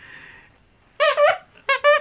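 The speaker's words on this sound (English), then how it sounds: "this squeaky toy" Two pairs of sharp, high-pitched squeaks from a rubber dog toy, close and loud, after a faint whistling tone and a short pause.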